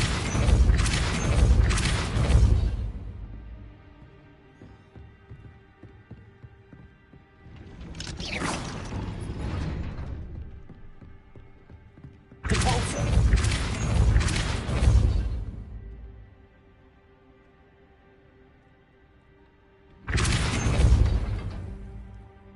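Hogwarts Legacy spell effects around raising a gate: four separate heavy whooshing booms with magical rumble, each lasting a couple of seconds, separated by quieter lulls with a low tonal hum.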